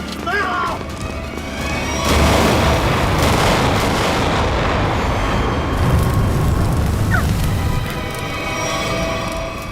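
Grenade blast during a police standoff at a petrol pump in a crime drama: a loud, rumbling explosion builds from about two seconds and lingers as a dense roar for several seconds, with faint voices around it.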